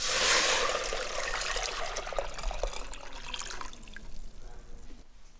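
Two liters of water pour steadily into a pot with a loud splashing rush at first, easing into a softer trickle before stopping.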